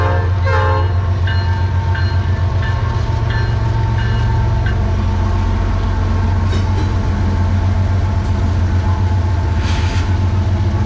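An intermodal freight train passes near a railroad museum in the Tennessee Valley, its steady heavy rumble and rolling wheel noise continuous throughout, with brief higher squeals and clanks along the cars, loud and close.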